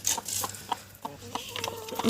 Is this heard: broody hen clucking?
yes